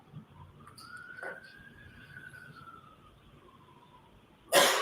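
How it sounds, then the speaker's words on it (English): A siren passes outside a courthouse, a single faint rising-and-falling wail heard from a distance over low room hum, and a sharp noise cuts in at the end. "I'm just letting the siren go by."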